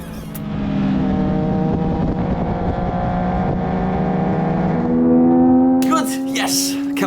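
Race car engines drone steadily in a racing video game, a loud sustained hum that shifts pitch as cars pass and slipstream, with a voice talking over them.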